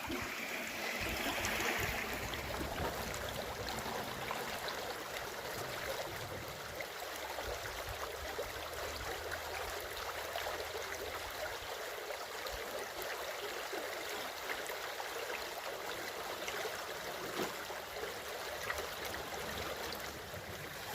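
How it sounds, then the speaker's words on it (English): Water runs continuously through a gold panning sluice during cleanup on a Cornwall prospecting trip, a steady broadband wash with a trickling, stream-like character and no voices. "let's get the sluice cleaned up and see if there's anything in there"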